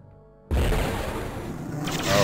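Underwater explosions in the video game Duke Forces hit as a sudden loud boom after a brief quiet moment, followed by a sustained churning rumble that swells again near the end.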